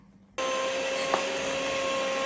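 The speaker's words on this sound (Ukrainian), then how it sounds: "Тепер давай я міксером" An electric hand mixer starts abruptly and whirs steadily through cake batter for a loaf cake, a loud continuous motor drone with a high whine and a brief clack partway through.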